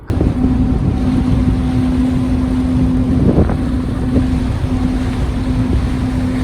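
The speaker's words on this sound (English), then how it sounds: "Okay, ferry ride. That means prop wash." A ferry's propeller wash churns as a steady, low rushing rumble of turbulent water with a faint engine hum beneath, close and continuous throughout.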